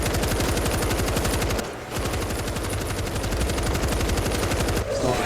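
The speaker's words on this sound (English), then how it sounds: "And then machine gun." Sustained machine gun fire in the zombie shooter World War Z, rapid continuous bursts loud and close with one brief pause partway through, plus a short dip near the end.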